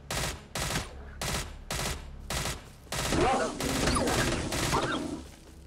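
Loud bursts of gunfire in the video game STALCRAFT, five rapid volleys separated by short pauses, then a denser stretch of shooting mixed with other game sounds.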